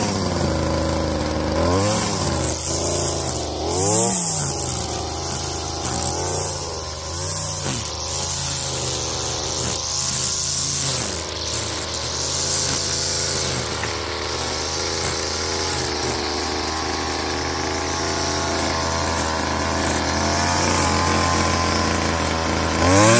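A Stihl FS 70 R gas string trimmer runs close by, its small two-stroke engine whining steadily with several revving swells early on, then holding a continuous buzzing drone.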